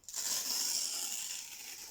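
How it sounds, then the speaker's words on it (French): A sheet of paper is torn in half by hand, a single continuous close ripping sound that starts sharply and fades slowly over nearly two seconds. "Moi, j'ai pas de ciseaux. Je déchire proprement."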